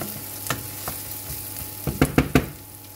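Onion frying in a pan for beef curry, a soft low sizzle running throughout with a few sharp clinks and scrapes of stirring that cluster into quick knocks near the end.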